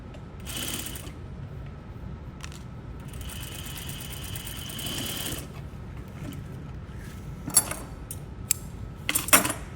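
A sewing machine stitches over boning on fabric in short whirring bursts with pauses between, followed by sharp clicks and taps of handling.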